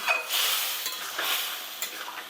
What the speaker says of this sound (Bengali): জল দেওয়ার পর এইভাবে মিক্স করে দিলাম